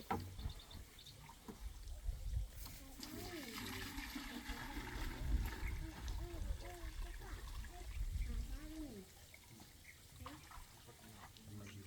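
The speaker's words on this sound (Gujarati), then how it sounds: "આ આપણે 10 લીટર દેશી ગાયનું ચરણ નાખ્યું અંદર।" About 10 litres of desi cow dung liquid being poured into a farm drum for natural farming, a faint trickling and splashing pour with quiet background sounds and soft voices.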